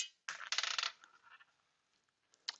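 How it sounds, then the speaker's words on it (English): A marble rolls off a ramp and lands on foil in a projectile lab, giving a faint crinkly rattle of impacts followed by a brief sharp tap near the end. "hold it all the way at the top of my ramp, let it go, and then we're going to look at where it lands on the foil"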